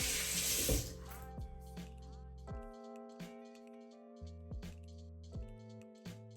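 Water streams from a tap briefly at first, then stops, leaving ringing clinks and soft handling sounds in a small room.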